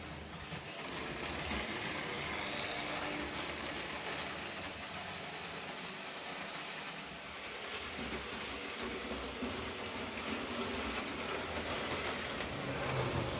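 A small model blue E10 electric locomotive pulling a passenger train hums and rattles along the track at a steady pace, a continuous whirring motor with faint clicking wheels.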